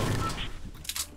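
Bursts of rapid video-game gunfire in Fortnite crackle and pop in quick succession, fairly close and dense, fading toward the end with a couple of sharper cracks.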